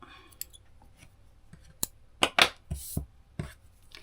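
Scissors snip crochet yarn in a few sharp, close clicks and cuts, scattered irregularly amid quiet handling noise, with no talking.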